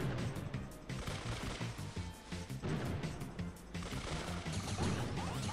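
Rapid bursts of Brawl Stars video game gunfire crackle repeatedly in quick volleys, loud and dense, with short pauses between the strings of shots.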